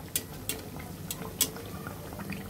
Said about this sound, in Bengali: আপনারা চুলার আঁচটা মিডিয়াম টু লোতে রেখে এগুলো ভেজে নিতে হবে।